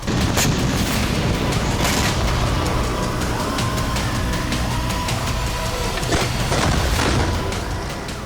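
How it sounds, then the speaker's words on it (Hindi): Bombing of southern Lebanon by the Israeli air force, with Hezbollah positions hit in a town: a continuous loud roar of blasts and rumbling explosions, with sharper bursts near the start and around the sixth to seventh second. "इजरायली वायुसेना ने दक्षिणी लेबनान पर बमबारी की।"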